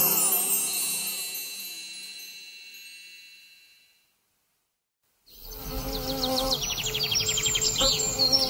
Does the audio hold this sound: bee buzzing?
yes